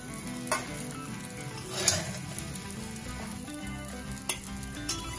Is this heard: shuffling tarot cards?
no